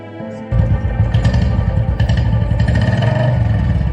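A motorcycle engine kicks in and throbs loudly nearby, a steady rumbling putter that holds for a few seconds.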